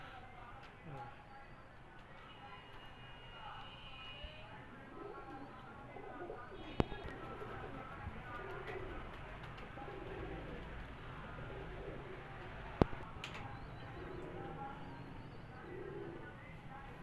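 Chaudhry-wale pigeons coo softly in a loft, faint low murmuring calls under someone talking, with two sharp clicks along the way.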